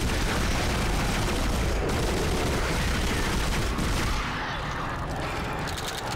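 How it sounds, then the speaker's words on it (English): Pulse rifle gunfire in the sci-fi horror game Dead Space: a dense, loud, continuous roar of rapid shots that thins slightly toward the end, with no talking. "Use the pulse rifle"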